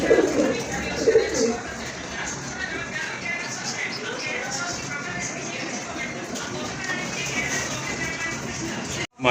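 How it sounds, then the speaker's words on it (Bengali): Pigeons cooing, a pair of sky-blue (akashi) pigeons kept for breeding, with steady soft coos and bird calls under a constant background; a brief lower vocal burst at the start. "প্রথমে আপনারা দেখতে পাচ্ছেন একজোড়া গড়া কবুতর"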